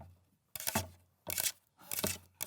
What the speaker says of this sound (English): the sound of paper clips on a cutting board, making the tippy-tappy